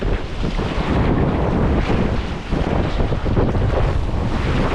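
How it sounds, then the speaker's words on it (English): Big whitewater waves on a Canadian river heard from a packraft, a loud churning roar of water mixed with heavy wind buffeting on the microphone, continuous and close with no talking. "Oh, these are big, big waves."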